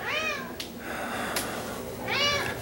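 A pet cat meows twice indoors, one clear meow at the start and another near the end, close and moderately loud against a quiet background.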